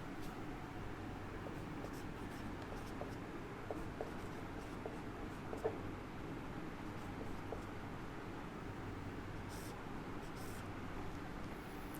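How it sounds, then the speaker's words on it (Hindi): Pen scratching steadily on paper or a board as definitions of SI units are written during a physics lesson, faint and continuous beneath a constant background hiss. "लिखते हैं डेफिनेशंस ऑफ एसआई यूनिट"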